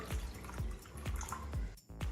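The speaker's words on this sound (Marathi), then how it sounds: "अजून पाणी मी याच्यात टाकत आहे" Steady water drips and splashes as water is poured into a pot of spicy modak amti curry, repeating in a regular rhythm, with a brief dip near the end; no voices.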